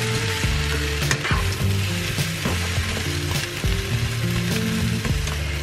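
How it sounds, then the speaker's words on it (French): Red onion, zucchini and eggplant pieces sautéing in a pan, a loud, dense, close sizzle with frequent scraping stir strokes throughout. "j'ai coupé une courgette et une aubergine en petits morceaux. Je vais faire revenir tout ça."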